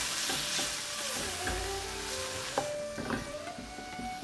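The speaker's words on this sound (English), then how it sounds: "Pinch more salt, give that a stir" Onions and tomatoes sizzle steadily in a pan while turmeric, coriander powder and Punjabi garam masala are stirred in for a tadka dal, with soft scrapes and a few light knocks of the spoon against the pan.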